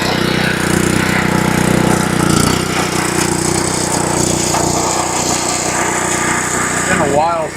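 A greens mower cuts a golf putting green at 1.7 mm, its light engine droning steadily up close with a loud, constant whir throughout.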